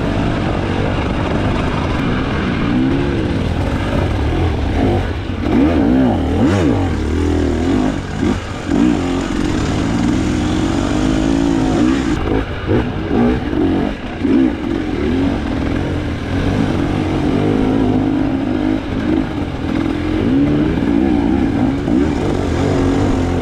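KTM 300 TBI 2024 dirt bike engine revving steadily while riding, loud and close throughout with rising and falling throttle swells and no talk.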